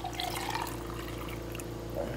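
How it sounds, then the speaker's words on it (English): Cooking liquid from simmered pig feet and pig ears poured into a two-cup measuring cup, a soft steady trickle and splash over a low kitchen hum, fairly quiet and continuous. "I'm going to pour some of that liquid into it."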